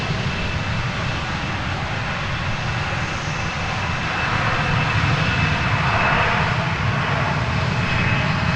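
Steady, loud roar of an airplane engine at DFW Airport, a continuous broadband rumble that swells slightly toward the end, with no talking.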